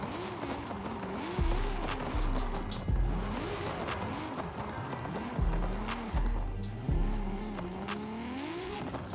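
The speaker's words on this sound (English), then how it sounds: "Let's get some heat into these tires and let's send it downhill." Lotus Carlton with a 1200hp drift build in Forza Horizon 5 drifting downhill off a mountain: an engine that revs and falls again and again, with tire squeal between the revs and no talk.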